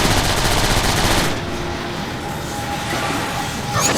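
Rapid, loud machine-gun fire from the video game Transformers: War for Cybertron, a dense continuous burst that cuts off partway, leaving a rumbling backdrop before firing resumes at the end.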